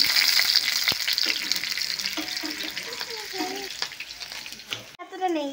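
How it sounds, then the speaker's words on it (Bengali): Dried red chillies sizzle and crackle loudly in hot mustard oil for tempering, a continuous close frying hiss with light stirring, while a voice talks briefly under it. "লঙ্কা, শুকনো লঙ্কা ফোড়ন দিয়ে দিচ্ছি।"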